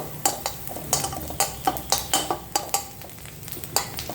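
Garlic frying in butter in a pan, stirred with a metal spoon: a low sizzle under rhythmic, sharp clinks and scrapes of spoon against pan, close and steady.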